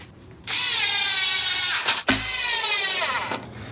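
A power drill drives screws into a cedar planter box, two sustained whirring runs close and loud with a short break and jolt between them as the screw seats, no talking.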